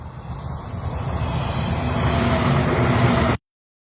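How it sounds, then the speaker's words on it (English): A stock traffic sound effect of vehicles rolling past, a continuous low rumble and hiss that builds gradually in loudness, then cuts off abruptly near the end. "And then we also have like traffic sound effects."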